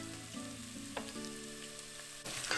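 Garlic and ginger frying in a pan make a steady, quiet sizzle with a faint hum beneath it and one small clink, swelling slightly louder near the end.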